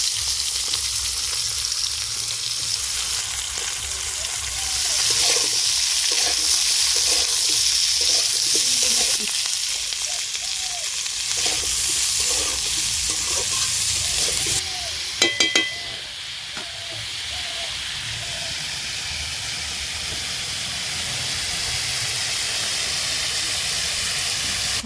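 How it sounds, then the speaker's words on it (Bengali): Potatoes and lightly fried cauliflower sizzle together in a pan of hot oil, a loud continuous hiss broken by stirring scrapes and a brief clatter midway, with no talk. "এবার আলু করে একসাথে দিয়ে দিচ্ছি।"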